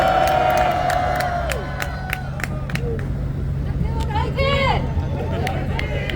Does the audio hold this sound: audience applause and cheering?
yes